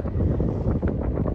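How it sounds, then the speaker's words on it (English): Strong, gusty wind on a North Carolina day buffets the microphone with constant low rumbling and roaring that never lets up, loud and close, with no speech. "Wind is annoying."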